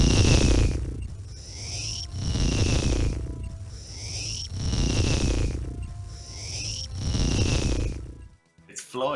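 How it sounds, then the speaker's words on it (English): Floyd sleeping in Old School RuneScape, a game sound effect of slow, loud snoring breaths rising and falling in four even cycles, with whistling high tones on each breath. "That is the sound of Floyd sleeping."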